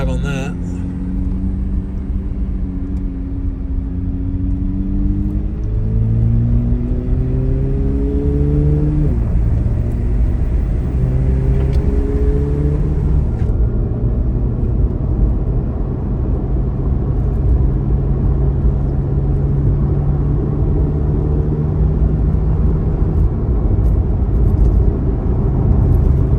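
A car rolling along a gravel country road, its engine rumbling steadily up close, with gear shifts and rising engine tones heard over the continuous road noise throughout.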